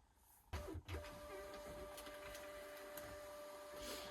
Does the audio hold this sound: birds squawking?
no